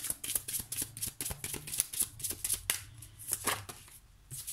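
Oracle cards shuffled by hand, a rapid riffling patter of crisp card slaps and flicks, close and fairly quiet, with no talk.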